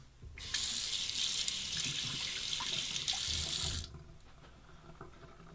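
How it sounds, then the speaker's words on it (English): A tap runs to rinse a stubble-clogged Razorine Special safety razor during a wet shave. The water rushes steadily and close by for about three and a half seconds, then cuts off, with no voices. "Let's rinse that. Lots of stubble in there."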